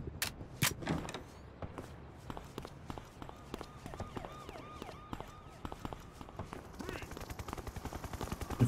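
Rifle fire in the video game Reservoir Dogs: sharp single shots and short bursts, loudest early on, mixed with footsteps and other game effects, moderately distant.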